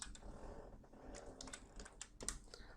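Quick bursts of clicks rise from a computer keyboard as code is typed, irregular and fairly faint with short pauses between runs of keystrokes.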